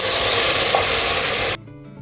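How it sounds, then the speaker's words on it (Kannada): Ground masala goes into a hot pan of sprouted horse gram sambar, and a loud, close, steady sizzle fills the pan for about a second and a half. It then cuts off abruptly, leaving only faint low clatter and no talking. "ಆಗಲೇ ರುಬ್ಕೊಂಡಿದ್ನಲ್ಲ ಮಸಾಲೆ, ಈಗ ಅದನ್ನು ಹಾಕ್ತಾಯಿದ್ದೀನಿ."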